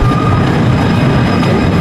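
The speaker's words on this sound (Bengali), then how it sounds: "আমাদের ট্রামটি এসে গেছে।" Tram arriving at a stop in Strasbourg, heard as a loud, close, steady rolling rumble with a faint high whine from the wheels.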